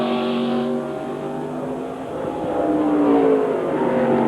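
A NASCAR Winston Cup stock car runs a qualifying lap at Indianapolis for the 1994 Brickyard 400, its engine a loud, steady roar that shifts pitch as it passes and pulls away.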